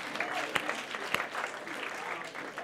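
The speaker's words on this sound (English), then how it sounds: "Stop clapping, son." Congregation clapping during a church service, a steady blur of hands with a couple of sharper claps standing out, moderately loud and mixed with murmuring voices throughout.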